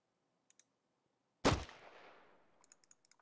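A single sharp gunshot from the video game Jagged Alliance 2 cracks loudly and trails off in a short echoing tail, bracketed by faint interface clicks before and after.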